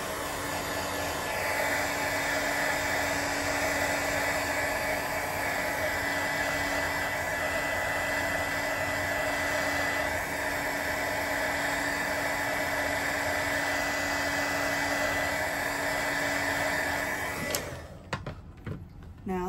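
A handheld hair dryer blowing on a card background sprayed with mica sprays, a steady loud whooshing hum held for about seventeen seconds before it cuts off abruptly.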